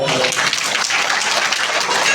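Children at a school annual function clap for themselves, a brief burst of dense, fast group clapping lasting about two seconds.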